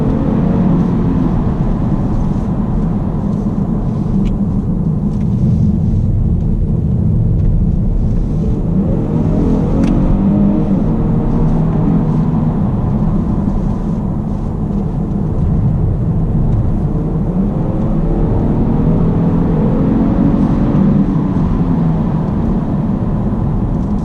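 A 2019 Genesis G70 3.3T drives hard along twisty roads, its engine droning loudly inside the cabin and rising and falling in pitch as it accelerates and backs off through the bends, with no talking.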